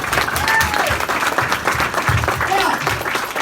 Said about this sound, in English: So, round of applause to everybody.